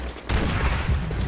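Machine gun fire in the World War II shooter Call of Duty: World at War, a dense rattling burst of rapid shots with low booming battle noise, loud and continuous throughout, no voices.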